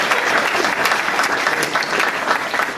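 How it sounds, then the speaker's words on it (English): Loud, dense applause from an audience at a candidates forum, many hands clapping steadily and close for a few seconds without a break. "Give yourselves a round of applause."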